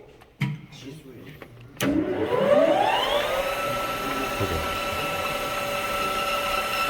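Manual lathe spins up after a couple of clicks and a switch clunk, its motor whine rising in pitch and settling into a steady hum, ready for facing the workpiece end before knurling, with someone speaking briefly.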